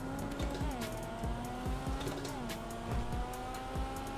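A Toyota Supra racing in the FiveM video game: a steady engine drone climbs through gear shifts, with short tire squeals and a faint voice beneath it.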